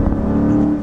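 A 2023 Chrysler 300C's 6.4-liter Hemi V8 holds a steady, loud, droning rev with no voices over it.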